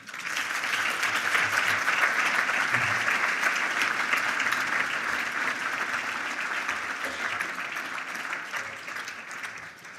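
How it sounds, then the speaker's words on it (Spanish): Applause fills the hall at an energy awards ceremony, a steady, dense round of clapping from a seated audience that holds for several seconds before slowly tapering off. "Un aplauso para Paco Baeza."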